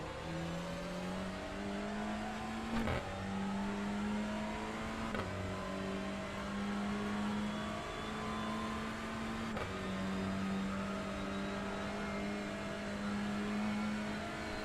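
Touring car engines in iRacing at Oulton Park drone loudly and continuously, the pitch climbing through each gear and dropping sharply at every shift, roughly four shifts across the run.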